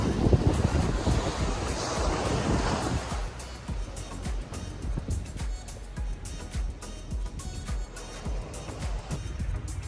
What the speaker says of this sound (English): Small waves with this turquoise blue water.